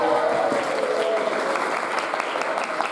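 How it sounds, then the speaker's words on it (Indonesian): A seminar audience bursts into dense, steady applause, many hands clapping together at close range for the whole stretch without letting up. "tepuk tangan semuanya"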